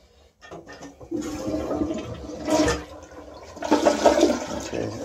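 A dual flush toilet in an apartment flushes with a rushing gurgle of water that swells twice, close by and moderately loud, with no talking.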